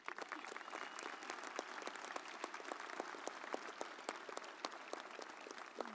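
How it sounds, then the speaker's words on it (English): A round of applause at a high school commencement ceremony, fairly quiet and distant, with scattered individual claps standing out from a thin, steady patter across a large crowd. "Would you all please join me in a round of applause recognizing the dedication and accomplishments of all of these students?"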